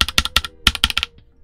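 A Redragon K617M HE 60% magnetic keyboard being typed on up close, with a quick burst of crisp, sharp keystrokes in an uneven rhythm, alone and with no voices.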